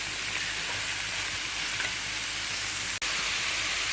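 Oil frying in a pan for an egg porutu with chillies, a loud, steady, dense sizzle that runs unbroken except for one brief dropout near the end, with no voices.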